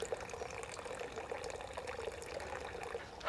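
Water runs steadily from an old tap fed by a solar pump, a soft, continuous trickling splash heard fairly close and alone.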